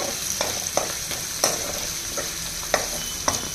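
Whole spices, including star anise and shahi jeera, fry in hot oil as the base of a chicken fry biryani, giving a steady sizzle with occasional sharp crackles and pops.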